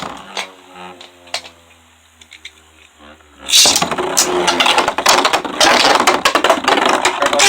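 Beyblade spinning tops, including Turbo Spryzen, whir and grind against each other in a battle stadium, a quiet clicky stretch giving way to loud, continuous metallic scraping and clashing with sharp hits.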